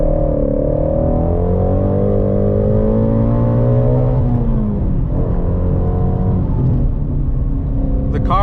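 Shelby GT350 accelerating hard on cold tires, a loud close engine roar climbing steadily in pitch, dipping briefly as power cuts, then pulling again.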